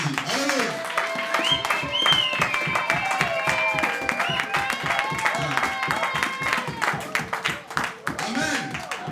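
A church congregation applauding with rapid rhythmic clapping that runs steadily throughout, while a voice sings or exclaims over the crowd.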